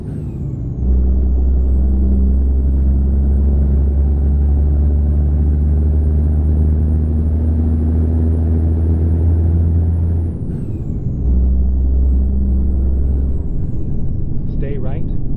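A Peterbilt 379 in American Truck Simulator hauling a heavy load, its deep diesel engine droning steadily and loudly with a high turbo whistle riding above, easing briefly partway through before pulling hard again.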